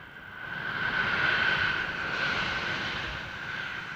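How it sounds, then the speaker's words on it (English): An A-10 Warthog with General Electric TF34 engines passes at the 1987 International Air Tattoo at RAF Fairford, a steady high jet whine over a broad roar that swells, eases and lingers at moderate distance. "The A-10 Warthog from the United States Air Force."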